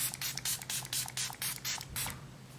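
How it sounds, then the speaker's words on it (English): Dalba First Spray Serum misted onto skin in a series of quick, close spray bursts, about eight short puffs with brief gaps between them. "I'm actually going to spray the Dalba First Spray Serum on my skin before"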